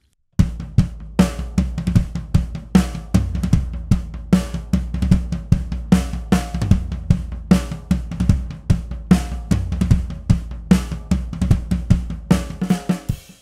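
Toms with fresh heads and deliberately poor, very low tuning are struck in a steady repeated pattern, each hit dull and boomy with a wobbly, out-of-tune ring, played close and alone.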